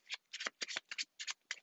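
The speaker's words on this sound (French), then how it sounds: "je mélange, je vais couper" A deck of playing cards is shuffled by hand, close and soft, in a series of quick riffling bursts with short pauses between them. The clip holds no talk.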